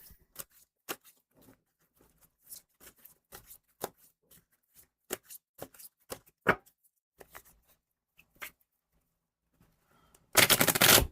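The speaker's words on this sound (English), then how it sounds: "All right, last shuffle here." Crisp, irregular bursts of tarot cards being shuffled and riffled, sharp clicks and flutters in quick clusters, ending with a dense rush of noise.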